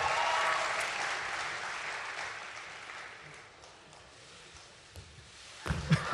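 An audience at a Korean baseball Golden Glove awards ceremony claps steadily at first, and the applause slowly fades away.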